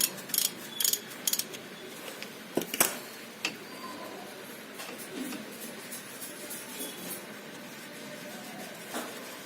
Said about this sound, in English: To remove these two caliper bolts, which are 12 mm.